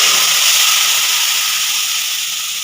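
Ground fennel paste dropped into hot tempering oil for a Bengali biulir dal, giving a loud, steady close sizzle and hiss that eases off slightly over a few seconds.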